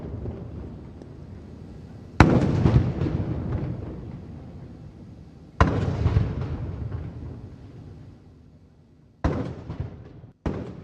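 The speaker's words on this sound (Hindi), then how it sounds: "तोपों की सलामी दी गई।" Ceremonial cannon salute fired in welcome of a visiting prime minister in Malé, Maldives: four loud booming blasts, each with a long rolling decay, the last two coming close together.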